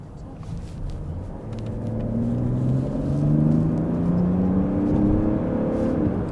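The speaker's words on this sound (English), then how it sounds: "let's enter the Autobahn and I will show you acceleration to 80 kilometers an hour" A 2024 Mercedes GLE Coupe GLE 450d AMG Line accelerates onto the Autobahn at night, its diesel engine droning and rising in pitch through gear changes under a steady cabin rumble.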